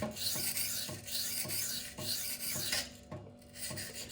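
Knife scale of a Beluga K110 steel blade knocking and rasping against a Gritomatic SiCa sharpening stone, repeated rhythmic grinding strokes with soft thuds, close and alone.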